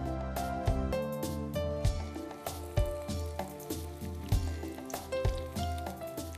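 Round slices of bread deep frying in hot oil, a constant crackling, bubbling sizzle with irregular pops, heard beneath steady melodic background music.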